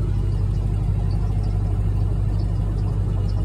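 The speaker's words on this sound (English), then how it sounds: "I got the car running" A 1996 Chevrolet Impala engine runs at a steady idle, a constant low rumble that holds without change throughout.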